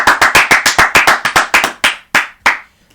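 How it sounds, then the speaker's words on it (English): About fourteen sharp, close hand claps in a quick, steady rhythm that slows and spaces out toward the end, loud and alone with no talk. "Clap it up for Albert Pujols"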